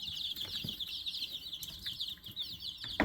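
Baby chicks peep constantly in a brooder, a dense chorus of high chirps close by with light rustling and scratching underneath.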